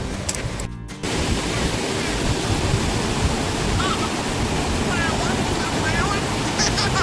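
River water rushes strongly over rocks at Kallanchira in Wayanad during rain, a loud, steady roar that fills the whole scene close by, with no voices on top.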